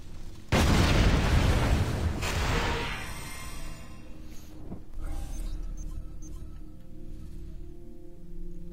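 Ship cannon fire in Assassin's Creed IV Black Flag: a heavy booming barrage of broadside shots rolling for a couple of seconds, then fading into distant rumbling blasts and low crackle, loud at first and receding.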